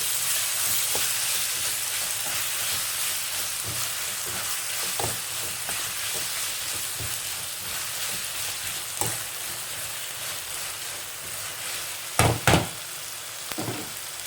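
Chopped tomatoes and onions fry in a pan for prawn roast, giving a loud, continuous sizzle close up, with stirring clatter and a couple of sharp spoon knocks near the end.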